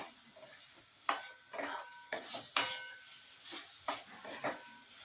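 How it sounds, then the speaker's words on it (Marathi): Boiled drumsticks being stir-fried in a pan for curry, a spatula scraping and clinking against the metal in irregular strokes over a soft sizzle, close and fairly quiet. "हे बघा, असे छान अशा परतून घ्यायच्या आहेत."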